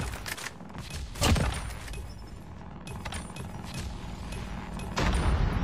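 A grenade explosion and gunfire in a first-person shooter match, heard as a few sharp booming impacts and scattered shots over a busy, moderately loud battle background.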